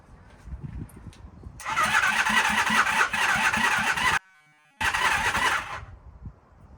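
A 1978 Honda Hondamatic CB400A motorcycle engine, primed with starting fluid sprayed into the exhaust, cranks and catches into a loud rough running burst, cuts out briefly, then roars again before dying away.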